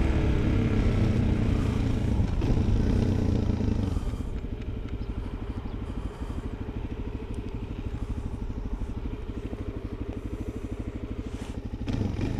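A motorcycle rides through suburban streets near Kitchener, its engine a steady, close, rhythmic thrum that eases from a louder throttle to a pulsing cruise, with no voices heard.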